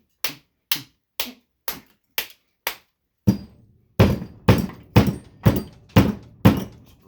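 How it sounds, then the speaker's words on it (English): Hammer blows strike scrap railway ballast copper to straighten it, about a dozen sharp, evenly spaced metallic thunks, lighter at first and then heavier and louder, with no talk. "Let's keep hammering at it."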